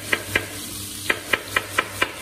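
Sliced potatoes and onion frying in a pan, with a steady sizzle beneath seven evenly spaced sharp scrapes or taps of a utensil stirring the food.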